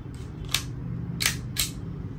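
Three sharp, quick reports from an Army Armament R34-1 pistol being test fired, spaced unevenly over a low steady background hum.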